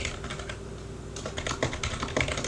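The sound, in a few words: typing on a computer keyboard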